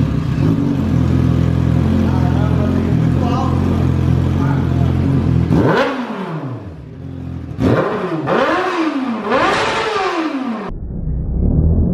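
A Honda Hornet motorcycle with only a bare exhaust pipe idles loudly, then gives several sharp revs that rise and fall one after another, with a brief drop in between.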